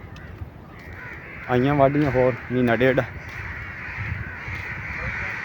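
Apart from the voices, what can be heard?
crows cawing noisily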